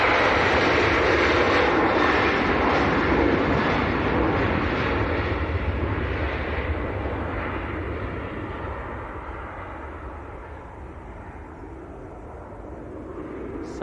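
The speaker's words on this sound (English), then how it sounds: "So that was Ryanair to Krakow, climbing away." A Ryanair jet bound for Krakow climbs away after takeoff from Leeds Bradford Airport, a loud broad engine roar that slowly fades as it recedes into the distance.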